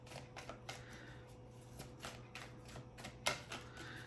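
Tarot and oracle cards shuffled by hand, a quiet run of soft riffling bursts and light taps in an irregular rhythm, with one sharper snap near the end and no voices.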